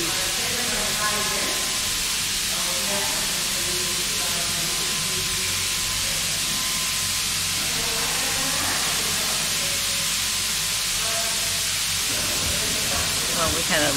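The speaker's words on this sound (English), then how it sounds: "The steam engine pump. No, it was running." A steam engine pump in London runs with a continuous loud hiss of steam and a rhythmic mechanical chugging, while people talk nearby.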